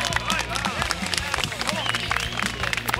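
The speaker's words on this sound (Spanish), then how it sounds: "Vamos, un aplauso para agitar" A crowd at the Oscar Crespo racing circuit in Sucre, Bolivia, claps in a dense, steady stream of applause, with a noisy hubbub and voices mixed in.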